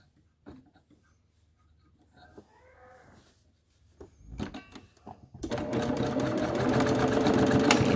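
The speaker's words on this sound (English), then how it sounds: "So I'm going to just sew along this side and the bottom edge" Sewing machine stitching a child's fitted fabric mask with a filter pocket, quiet and sparse at first, then running in a loud, steady whirring burst for the final few seconds.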